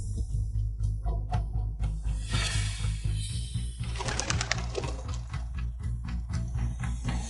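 Pigeon coos drift through a dense, steady background of low hum and mixed noise, soft and somewhat distant rather than up close.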